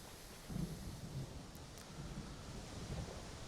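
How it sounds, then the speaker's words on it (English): Soft rain ambience from a Civil War strategy game set on a July afternoon in Northern Virginia, a quiet, even wash of rainfall with faint low rumbles. "a nice soft rain to keep us company up here on a lovely July afternoon in Northern Virginia"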